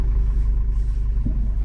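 Street traffic rumbles past close by, with a steady, heavy low-pitched car roar and a brief bump near the end.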